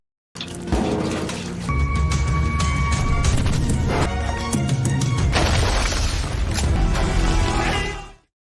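A loud explosion from a Korean war film scene set in an electrical supply room, a sustained roar of blast, crashing and shattering debris lasting several seconds before cutting to silence.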